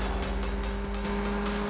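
A car engine roars steadily in a Hindi-dubbed action film scene as the vehicle speeds away, a loud sustained motor drone with a faint squeal, no speech over it.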